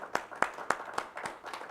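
Audience applause at a church program, a short burst of claps in separate sharp hits rather than a dense roar, moderately near and fairly quiet.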